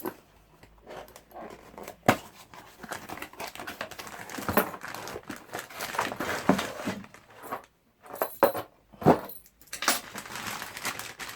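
Unboxing a newly delivered grease pump with grease nipple fittings, close rustling and crinkling of packaging with rattling, clinking parts and brief pauses, with no talk.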